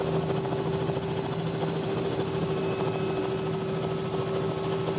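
A Robinson R66 helicopter hovers in Microsoft Flight Simulator, a steady, continuous turbine whine and rotor hum with an unbroken drone at constant loudness, heard alone.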